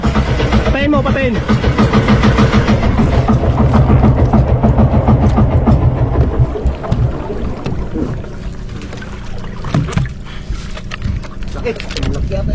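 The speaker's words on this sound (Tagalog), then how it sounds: "patayin mo na yung makina" A fishing boat's engine drones steadily at close range, then is shut off partway through, leaving quieter water and deck sounds while people talk over it.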